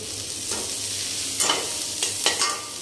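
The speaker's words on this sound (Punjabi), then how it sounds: "ਇਹ ਹਿਲਾ ਦਈਏ ਆਪਾਂ" Spiced yogurt masala for dhaba-style dum aloo sizzles in a pan, with a constant hiss broken by several scraping stir strokes that swell briefly and grow more frequent toward the end.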